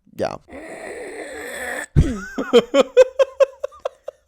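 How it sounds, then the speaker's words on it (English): A person clears their throat with a short rasp, then a strained, voiced throat-clearing, trailing into a run of quick chuckle-like bursts. "I had to clear my throat"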